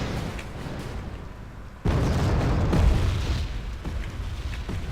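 A sudden loud boom of an airplane exploding in a video game cuts in over steady background noise, followed by a rumbling roar that slowly fades.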